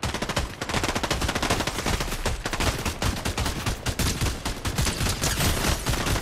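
Dense, continuous video game gunfire aimed at bots, overlapping automatic bursts firing nonstop at close range with no talk.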